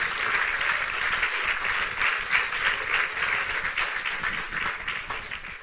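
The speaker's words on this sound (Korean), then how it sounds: "주님께 감사의 박수를 올려드릴까요?" A church conference congregation gives a long round of thankful applause, a dense, even roar of many hands clapping at once, continuous and full without breaks.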